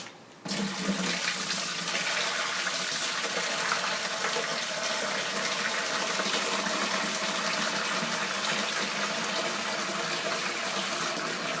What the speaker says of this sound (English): Now I'm going to carefully pour this into the bucket, trying not to splash it